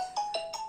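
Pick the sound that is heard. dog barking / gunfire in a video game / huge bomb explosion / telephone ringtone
telephone ringtone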